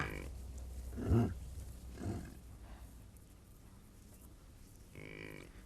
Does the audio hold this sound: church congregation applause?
no